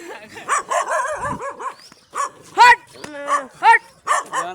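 Several dogs, one of them red and black, bark and yip in short, close bursts during a morning outing, with brief quiet gaps between the loud, yelping calls.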